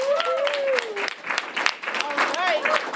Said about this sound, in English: Give Gil a round of applause.